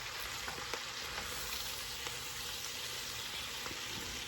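Cabbage cooking in bacon grease in a full pot, giving a steady close sizzle and frying hiss throughout with faint occasional pops and no talking.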